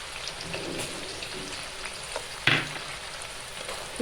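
Garlic, cumin and mustard seeds frying in hot oil, a soft steady sizzle with scattered crackles and one sharper pop partway through.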